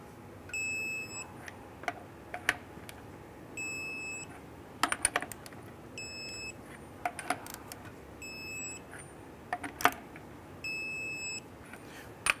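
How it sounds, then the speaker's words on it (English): Lug nuts on a 1994-2004 Ford Mustang wheel are tightened with a torque wrench to 95 foot-pounds, giving sharp, isolated clicks in several short bursts. A repeating electronic beep runs in the background throughout. "Let's go ahead and torque down our lug nuts to 95 foot-pounds."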